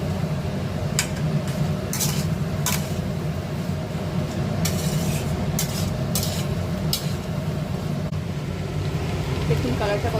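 Fried potato and pointed gourd being turned over in a pan for a Bengali prawn-and-gourd dish, giving a steady low rumbling frying wash with a few sharp scrapes and clicks of the spatula scattered through, close and continuous.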